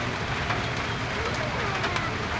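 Steady rain falls at a hillside resort in Puhagan, Valencia, Negros Oriental, a dense continuous hiss with no breaks, with occasional faint bird calls behind it.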